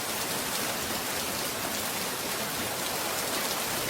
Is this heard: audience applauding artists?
no